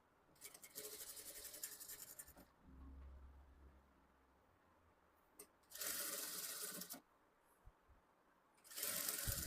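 A sewing machine stitches a blouse in several bursts of rapid whirring, each a few seconds long, with quiet handling between runs.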